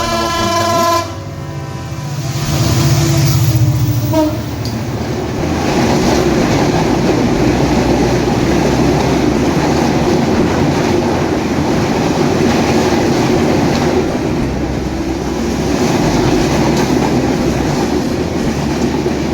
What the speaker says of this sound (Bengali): তিন ঘন্টা লেটে বনলতা এক্সপ্রেস আজিমনগর রেলওয়ে স্টেশনে দুই নম্বর লাইন দিয়ে প্রবেশ করছে